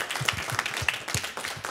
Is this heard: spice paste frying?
no